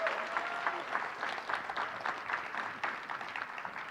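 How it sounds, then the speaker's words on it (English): An audience at a university awards event gives steady, moderate applause, a dense patter of clapping hands heard from a distance with no talk. "Let's have a round of applause for Ms. Sarah Cruz."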